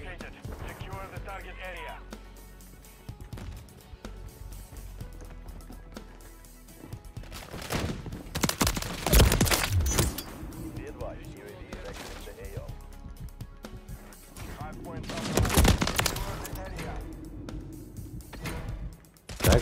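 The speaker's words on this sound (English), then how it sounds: "Teammate, can you stop shooting at me?" Bursts of gunfire in the video game Modern Warfare 3, loud cracks spread across a busy match with a heavier cluster near the middle and another toward the end, alongside other game sounds and scattered steps.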